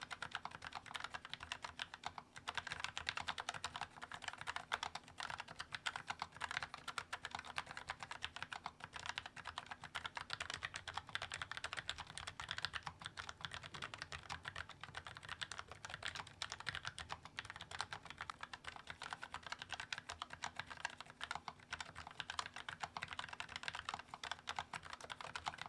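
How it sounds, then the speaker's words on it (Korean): Typing on a Logitech MX Mechanical low-profile keyboard with red linear and brown tactile switches: a continuous stream of quick, soft clacks at an even pace, fairly close and quiet, with no voices. "적축과 갈축 두 가지 스위치 타건 소리 비교해 보실 수 있게 다시 한번 들려드릴게요."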